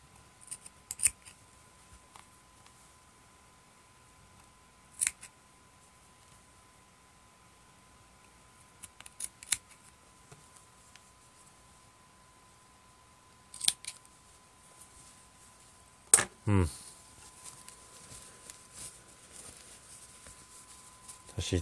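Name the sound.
scissors cutting crochet yarn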